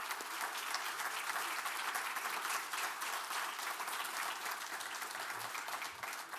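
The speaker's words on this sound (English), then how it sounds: "Please give the panel a big round of applause." Audience applause for a panel at a strategic forum, a broad, even wash of many hands clapping at once, sustained and steady from start to finish with no talking over it.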